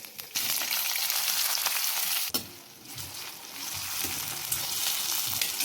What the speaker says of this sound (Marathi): आता आपण चिरलेला बारीक उभा कांदा हा तेलामध्ये टाकून छान ट्रान्सपरंट होईल इतका परतवून घेऊया.